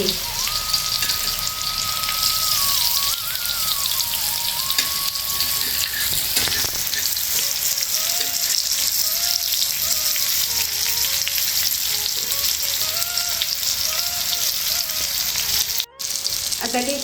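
Bitter gourd slices coated in masala fry in a pan with oil drizzled on top, a loud, continuous crackling sizzle lasting throughout, with faint tonal background sound and a brief dropout near the end.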